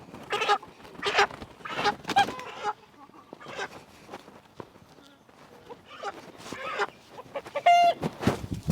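A rooster crows and clucks close by among other farmyard animal calls, in loud irregular bursts with short quiet gaps.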